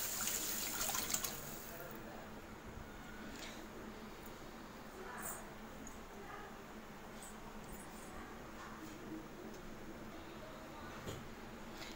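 Faint splashing and trickling of water being poured into a pot of tomato rasam, with soft clinks and small handling noises, quiet throughout.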